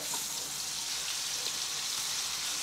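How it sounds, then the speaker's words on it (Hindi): Chicken pieces frying in hot oil in a pan, a steady close sizzle with faint crackles and no talking. "यहाँ पर तेल गर्म हो गया है चिकन को हम डाल देते हैं"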